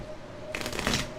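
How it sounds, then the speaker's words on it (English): A deck of playing cards being riffle shuffled: after a quiet start, a close, crisp flurry of cards fluttering and slapping together, rising into a denser burst near the end. "So we are shuffling the cards."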